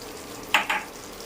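Two quick sizzling crackles, close and fairly loud, as seeds hit hot oil, over a quiet kitchen background.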